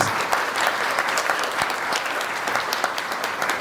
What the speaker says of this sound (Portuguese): Um grande salve de palmas para o Padre Max